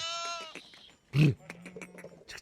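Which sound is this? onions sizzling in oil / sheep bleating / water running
sheep bleating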